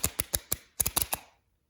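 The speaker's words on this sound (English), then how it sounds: "Now you can shuffle," Playing cards are riffle shuffled by hand, two quick bursts of sharp, rapid clicking as the cards interlace, close and distinct, then silence.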